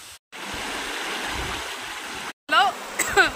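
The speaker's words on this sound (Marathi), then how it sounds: "माझ्या मागे पाण्याचं कसलं आवाज येवलेलं आहे बघा" Steady broadband rush of flowing water fills most of the clip, broken by two brief gaps, with high bird chirps near the end.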